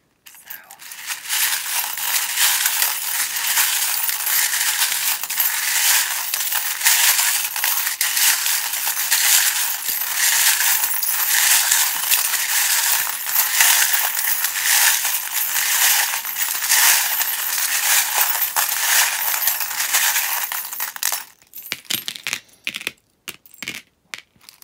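Tarot charms and dice dropped and rattled together in a long, dense clatter of small clicking pieces, close and steady for about twenty seconds before thinning into a few scattered ticks.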